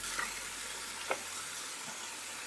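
Carrot, apple and cabbage fry in a pan with a soft, even sizzle close by, and a stirring scrape sounds once or twice. There is no talk.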